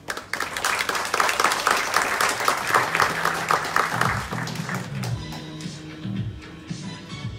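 An audience at an association's launch evening breaks into loud, full applause that holds strong for several seconds, then thins out and fades as voices begin to murmur.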